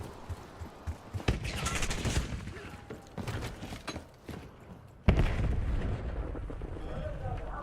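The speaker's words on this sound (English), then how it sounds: "next door guy popping fireworks." A neighbour's Fourth of July fireworks pop and boom outside during a storm, several sharp bangs followed by crackling bursts, one especially loud blast near the end, with someone talking over them.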